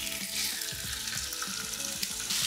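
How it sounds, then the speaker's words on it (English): Steady, crackling sizzle of seasoned pork pieces frying in hot oil, loud and close, with no talking. "now we go in for the sizzle"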